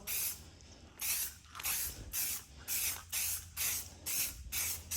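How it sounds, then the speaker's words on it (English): Short bursts of spray paint laid in light coats on a custom ram air hood grille insert for a 2016 Ram Cummins, about eight hissing passes in a steady rhythm, close and fairly loud. "I'm just gonna throw a couple light coats of paint on."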